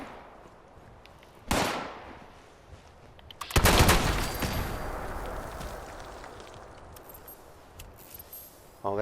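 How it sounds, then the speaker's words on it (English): Gunfire erupts in a gun battle in Fallout 76, with a sudden burst followed by a longer rattling volley and scattered trailing shots over a low background, fairly distant and without voices. "get out of this gun battle"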